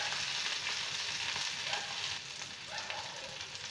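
Chopped tomato frying in a pan gives a soft, continuous sizzle with faint stirring now and then, fairly quiet and close, with no voices.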